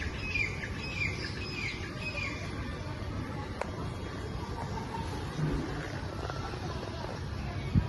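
Small birds chirp in quick, scattered bursts above a steady murmur of background noise, with a few brief knocks; fairly faint and moderately distant.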